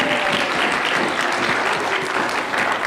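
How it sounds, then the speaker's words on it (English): Audience at a mental health week event gives a dense, even round of applause, loud and continuous from start to finish with no speech over it. "So a big round of applause for you."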